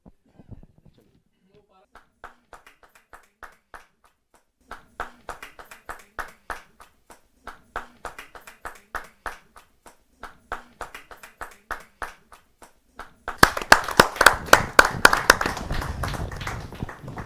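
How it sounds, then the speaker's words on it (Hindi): An audience at a Hindi poetry open mic claps: sparse, separate hand claps build steadily and then swell into a burst of loud, dense applause near the end. "जोरदार ताली के साथ"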